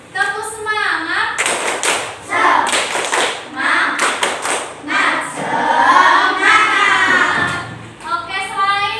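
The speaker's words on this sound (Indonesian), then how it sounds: "Oke, tepuk semangat dulu ya biar tidak lemas." A class of children claps a rhythmic spirit-building pattern in a classroom lesson, sharp hand claps and taps in bursts with chanting voices between, fairly close and loud.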